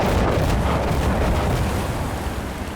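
An RPG rocket explodes in Insurgency Sandstorm, a loud, close blast that rolls on as a dense, sustained rumble and slowly fades over about three seconds.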